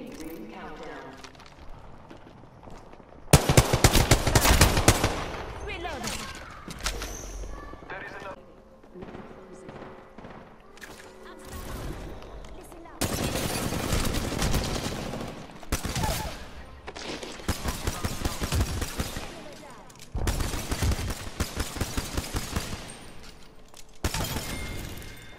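Bursts of gunfire in Apex Legends, rapid automatic volleys and single loud shots arriving in several clusters separated by quieter stretches, with voices speaking in between.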